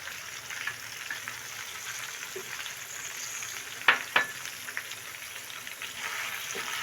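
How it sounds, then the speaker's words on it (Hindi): Capsicum frying in a pan gives a steady low sizzle throughout, broken by a couple of sharp spatter crackles near the middle and a few lighter pops, with no talking. "एक मिनट के लिए हम इसे इसी तरह फ्राई करेंगे।"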